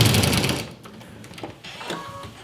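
A Juki 2010Q sewing machine stitches quilt piecing, a short loud whirring run that stops after about half a second, followed by a few quieter mechanical clicks nearby.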